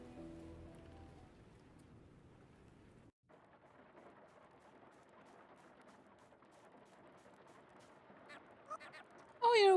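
Steady rain falls in the farming game Grimshire, a soft constant hiss that runs almost the whole time, with one short gap and a louder burst of other sound at the end.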